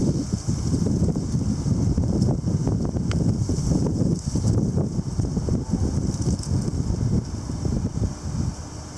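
Strong breezy wind blows outdoors, a constant rough rumble buffeting the microphone with gusty fluctuations and no talk.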